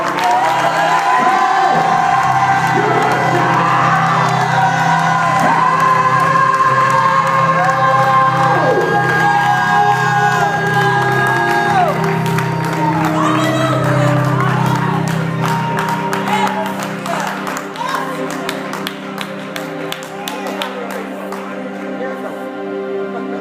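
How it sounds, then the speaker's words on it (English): Church congregation at a youth service shouting, whooping and cheering over clapping and held keyboard chords, loud and crowded throughout, easing somewhat toward the end. "Now, as you're clapping, lift your voice and give them a shout."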